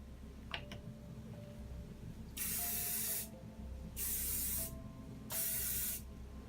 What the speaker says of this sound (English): Get the hairspray on